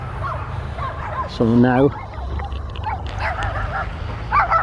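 Dogs barking at an outdoor park by a lake, a short burst of loud harmonic yips near the middle amid background chatter and whimpering, with a person talking briefly.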